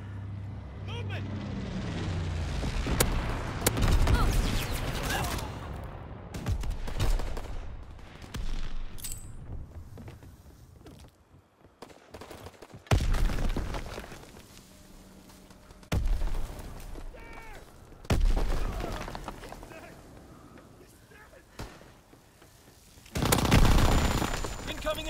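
Heavy artillery and gunfire from a Call of Duty: WWII Domination match, with loud booming blasts at irregular intervals, a few rolling explosions and scattered shots between them, while game voices call out in the background.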